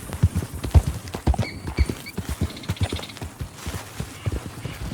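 Horse hooves clip-clop at a steady galloping rhythm in Red Dead Redemption 2, the beats close and distinct, mixed with soft tack rattles and no talking.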